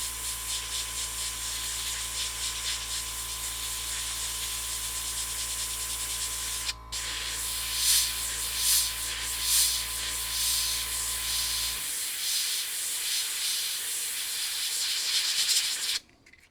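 Gaahleri GHAD-39 airbrush spraying paint at raised pressure gives a steady, loud airy hiss that runs continuously for most of the stretch, with a low compressor hum underneath that drops away near the end.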